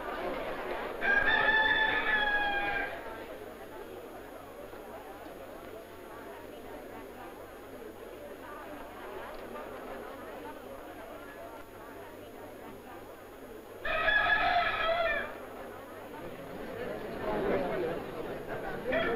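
Roosters crowing in an old Mexican film scene, two loud crows several seconds apart with a murmur of people talking and background noise between them.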